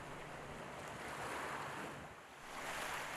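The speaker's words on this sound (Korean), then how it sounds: "오롯이 파도 소리에 집중해보는 시간" Steady wash of ocean surf rolling onto a beach lined with columnar basalt cliffs in Korea, with a soft swell and dip in the middle, constant and moderately close, no voices.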